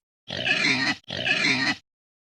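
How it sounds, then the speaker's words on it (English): Pigs grunt and oink in two back-to-back bursts of equal length, each a dense, snorting, close-up run of rough grunts with a brief gap between them and nothing else audible. "Look at pigs."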